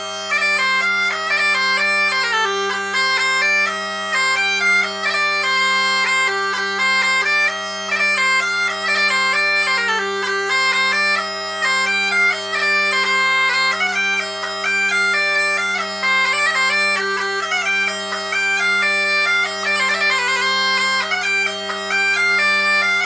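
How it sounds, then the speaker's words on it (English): English border pipes play a lively tune with a split cane reed, a steady low drone beneath a continuous bright, reedy melody with quick ornamented notes, loud and close throughout. "So these are the English border pipes."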